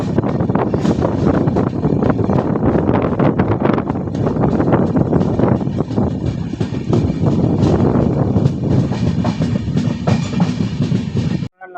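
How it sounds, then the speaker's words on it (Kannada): The Panchaganga Express runs on after leaving Gokarna station, a loud, continuous rumble of wheels and carriages with rhythmic clatter and wind buffeting the microphone, no voices, cutting off abruptly at the end. "ನಮ್ಮ ಟ್ರೈನ್ ಇದು ಯಾವುದು ಗೋಕರ್ಣ ಸ್ಟೇಷನ್ ಡಿಪಾರ್ಟ್ ಆದಮೇಲೆ ನೋಡಿ"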